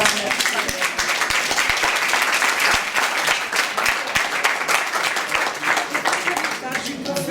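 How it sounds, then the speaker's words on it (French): An audience at the end of a workshop breaks into sustained applause, many hands clapping densely and steadily at close range throughout, with sharp individual claps standing out from the wash. "on va applaudir Marie-Laure parce que c'est..."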